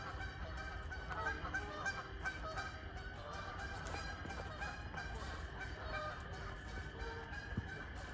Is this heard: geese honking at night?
yes